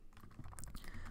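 A few quick keystrokes tapped on a computer keyboard, faint and close, in a short burst while coding in Python.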